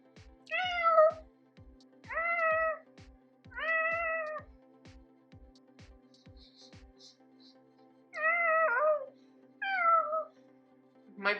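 A woman imitates a cat's meow with her voice, giving five drawn-out, rising-and-falling meows in pairs and singles, close and fairly quiet, over a faint steady low hum with regular soft clicks.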